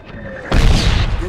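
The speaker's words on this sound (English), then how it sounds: "Get that mortar guy. He's firing at us. Mortar inbound." Mortar shell exploding in Medal of Honor (2010): a quiet lead-in with a faint tone, then a sudden loud, close, low boom halfway through that rumbles and roars on for most of a second.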